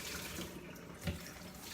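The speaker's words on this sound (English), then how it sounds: "I'm just going to rinse it under the cool water until I think it's all rinsed off" Cool tap water runs steadily into a colander, rinsing a small batch of sweet pickles in a sink, a soft continuous hiss and splash with one brief heavier splash.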